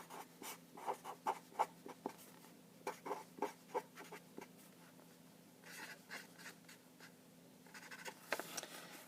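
Pen writing maths working on paper, close and quiet: bursts of rapid scratchy strokes in short rhythmic groups with brief pauses between them.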